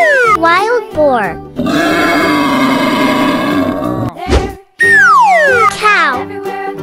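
A wild boar lets out a rough, raspy grunting roar lasting a couple of seconds, loud and close, framed by lively, sing-song voices and cartoon-style effects.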